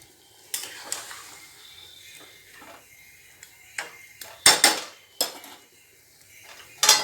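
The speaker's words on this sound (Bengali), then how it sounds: "মাছগুলো দিয়ে এবার বাটিটায় যে মশলা গুলেছিলাম ওর থেকে একটু জলটা দিয়ে দিলাম।" Fish cooking in a pan as spiced water is poured in, with clinks of utensils against the pan and soft sizzling, heard as sparse clatters and a few louder metallic knocks close by.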